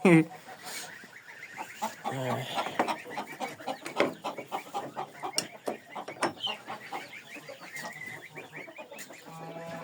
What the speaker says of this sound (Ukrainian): Це тільки що кукарікують.